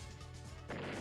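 A tank attack strike in the turn-based strategy game Advance Wars: a single sharp crashing impact that lands near the end, loud and close, following a steady stretch of game sound.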